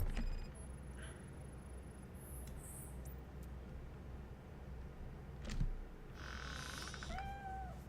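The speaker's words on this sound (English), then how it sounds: "Cat noise." A cat's meow in the Robocop video game, a couple of short upward-bending cries near the end over a steady low game hum, with a faint bump midway.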